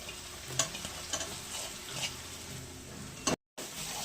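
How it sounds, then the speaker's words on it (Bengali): Chicken sautéed and stirred in a pan for chicken rolls: soft, steady frying hiss with a few scraping strokes of the spoon, close but quiet, cut by a brief dropout near the end. "এবার একটু নাড়াচাড়া করেই যাব, ভালো করে এটা কষিয়ে নিতে হবে। এবার মাংসটা দিয়ে দিলাম।"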